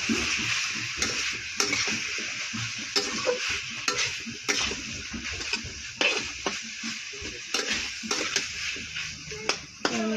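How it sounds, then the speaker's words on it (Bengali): A utensil stirs thick, reduced curry in a pan after water is added, giving steady scraping and clinking strokes over a bubbling sizzle, with occasional louder knocks against the pan and no talk. "আর একটু জল দিব, আবার নাড়বো ভালো মতো।"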